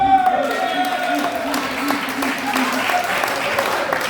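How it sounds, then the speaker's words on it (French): Audience applause during a live comedy show, with the crowd clapping for itself; scattered clapping under an ongoing voice and tonal sounds, moderately loud. "Ça, vous pouvez vous applaudir."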